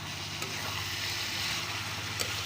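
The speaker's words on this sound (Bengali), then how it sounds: "এভাবে কেটেই ভাজি করি তেলের উপরে দিয়ে" Sliced vegetables fry in hot oil with a continuous, even sizzle, close up and steady throughout, with a couple of faint stirring clicks and no voices.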